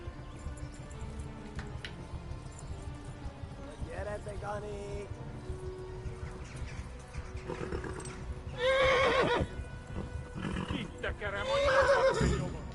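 A video game horse whinnies loudly twice over steady clip-clopping hooves, with a person talking in the background throughout.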